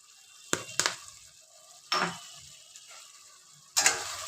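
Garam masala powder is stirred into a sizzling dish, with several distinct scraping stirs of a spoon against the pan, the first two in quick succession, over a low, steady hiss of frying, close up and without voices.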